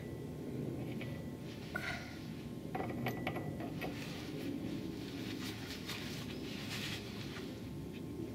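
Quiet mechanical clicking and metallic ticks from a ratchet tightening hub parts on a Kazuma Panda ATV during a refurbishment, brief irregular bursts over a low steady background hum.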